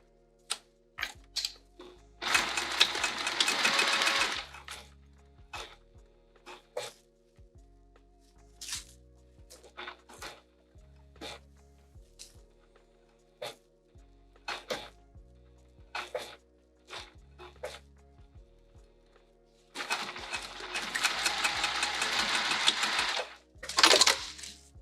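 A sewing machine stitches the lining of a sling, matching gusset to gusset, in two long whirring bursts separated by scattered clicks, taps and fabric handling, close and moderately loud with no speech.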